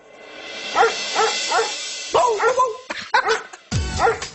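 An angry dog barks and yips repeatedly at close range, the barks coming in uneven bursts with whimpering tones and some background noise.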